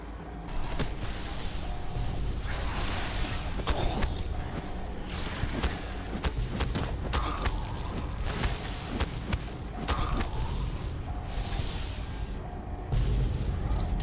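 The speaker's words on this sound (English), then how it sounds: "You have a problem with explosions." Repeated booming blasts from video game explosions, rumbling loud and near across the whole stretch, with bursts and pops layered over constant game noise.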